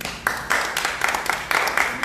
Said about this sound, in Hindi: मैं ताली बजाओ भाई।